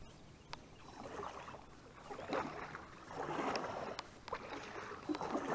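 A canoe out on the water on a Saturday morning bass-fishing trip, with soft paddle splashes and water lapping against the hull, light wind brushing the mic, and occasional sharp knocks on the boat.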